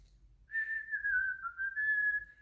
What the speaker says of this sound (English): at the end. There's a little whistling thing